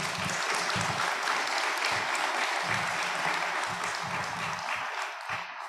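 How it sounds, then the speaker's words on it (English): Sustained applause from a graduation audience honoring award winners, broad and steady for several seconds before tapering slightly at the end. "Another round of applause for our award winners"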